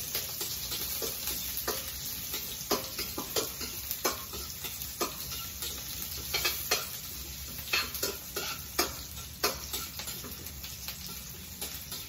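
Onions sautéing in a pan for chopsuey, a steady close sizzle broken by irregular scraping stirs and light utensil taps, with no talking.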